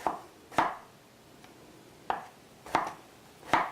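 Knife cutting through a peeled cucumber on a board, five sharp, separate chops spaced unevenly with quiet gaps between, close and crisp, with no talking.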